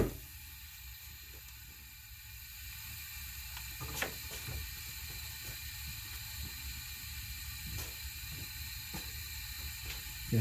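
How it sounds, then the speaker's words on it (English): Compressed air leaks from an engine cylinder on a misfiring 2000 Honda Accord held under air pressure. A steady, quiet hiss runs throughout, broken by a few faint mechanical clicks. "You can hear air leaking there."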